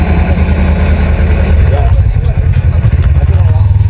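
A motorcycle engine rumbles close and loud, idling with a steady throbbing pulse as the bike pauses at a roadside stall during a touring ride, with a voice speaking over it.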